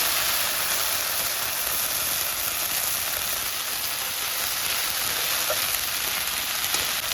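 Ginger fries in hot oil with a dense, even sizzle that stays loud and steady throughout, with no talking.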